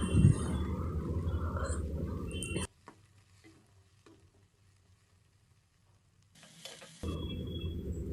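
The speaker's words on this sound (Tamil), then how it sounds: "இப்போ கட் பண்ணி வச்சுருந்த வெங்காயம் சேர்த்துக்கிறேன்." Chopped onions fry in oil with green chillies and curry leaves, a loud, steady sizzle with stirring that drops to near silence partway through, then returns just as strongly.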